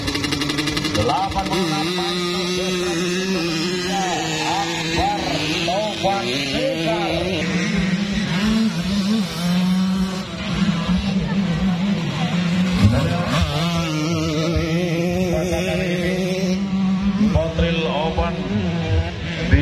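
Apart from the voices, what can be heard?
two-stroke racing motorcycles up to 200 cc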